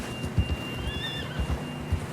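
A horse whinnies once, shrill and drawn out, over soft, steady hoof clops in the video game Red Dead Redemption 2.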